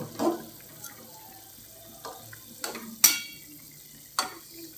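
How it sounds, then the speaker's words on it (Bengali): Fried rui fish is stirred into a simmering potato and cauliflower curry, with a handful of separate spoon scrapes and knocks against the pot over a quiet, faint bubbling background. "মাছটা দিয়ে আমি নেড়ে চেড়ে পাঁচ মিনিট জাল করে নেব"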